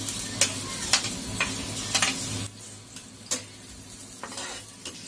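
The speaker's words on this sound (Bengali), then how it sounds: "পেঁয়াজ এবং রসুন লালচে না হওয়া পর্যন্ত ভাজতে থাকবো।" Chopped onion and garlic frying in oil in a pan, a soft continuous sizzle broken by sharp spatula stirs and scrapes at irregular intervals, close and fairly quiet.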